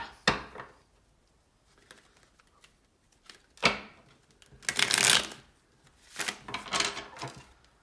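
Cards being shuffled in several crisp riffling bursts separated by pauses, fairly quiet and close, with a few small taps and clicks between.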